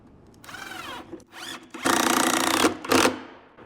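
A power drill drives a 2-inch screw into a cabinet box held by a jig, with several short, loud whirring bursts and brief pauses between them.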